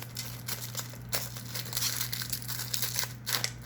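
Crinkling and tearing of a Pokemon Chilling Reign booster pack wrapper that resists opening, a close, steady rustle with a few sharper crackles and no talk.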